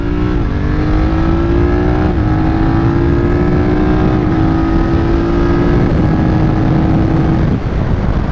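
A BMW F900 R motorcycle accelerates above 4000 rpm on a highway with a steady loud engine drone. The pitch climbs through several gear changes, with heavy wind rush throughout.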